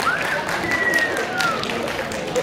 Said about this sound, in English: Big round of applause for Robin